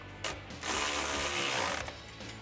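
A ratchet snugs the bolts on the upper control arm of a 2004-2019 Ford F150, giving a close, quiet run of clicking pawl sounds in two short bursts with a brief pause between.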